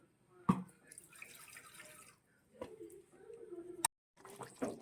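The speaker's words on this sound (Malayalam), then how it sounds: "കുറച്ച് വെള്ളം കൂടി ഒഴിക്കാവേ" Water is poured into a pan of mango and shallot theeyal curry, giving a faint, broken trickle and splash that comes and goes in short bursts, with a few sharp clinks between them.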